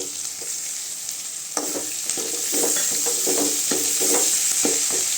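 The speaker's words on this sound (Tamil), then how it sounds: "இப்போ தக்காளி சேர்த்துக்கலாங்க" Tomatoes fry with sautéed onions in a pan for a potato kurma, a steady close sizzle overlaid with repeated scraping stirs of a spoon that start partway through and keep a loose rhythm, with no voices.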